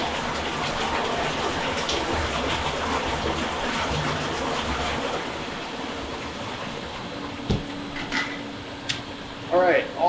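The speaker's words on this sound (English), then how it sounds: "That's all the water leaving the aquariums." Water gushing and draining from aquariums in a fish store under construction, a steady rushing wash throughout, with a few brief clunks and higher splashy sounds near the end.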